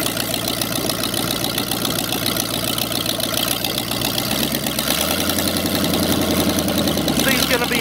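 A homemade halftrack's engine runs steadily throughout, a continuous close idling drone with a slightly rougher, louder patch toward the end.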